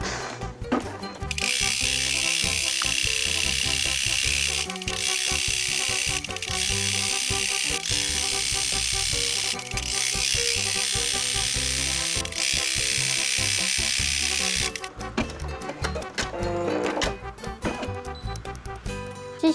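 A Brother M370 embroidery machine stitches a fluffy coaster held in a magnetic hoop. It gives a steady, fast mechanical chatter that runs unbroken for about thirteen seconds, then stops, leaving faint handling noises.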